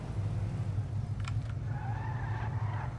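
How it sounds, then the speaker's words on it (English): A car in the video game Grand Theft Auto 5 on PC, with a steady low engine rumble and a brief tire squeal, moderately loud. "Get in the car."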